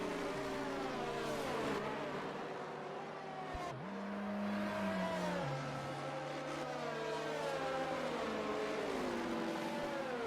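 Racing cars in an F1 video game at the Saudi Arabia Grand Prix, with a safety car pulling away: a steady, loud engine whine whose pitch climbs and shifts as the cars accelerate, alone without talk.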